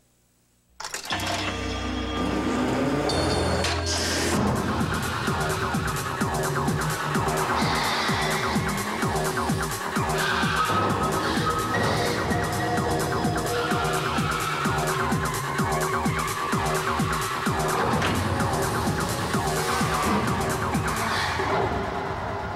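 A Hyundai Accent car in a 1995 television commercial skids and revs through a loud, busy stretch of engine and tire noise, with siren-like tones mixed in, running steadily from a sudden start.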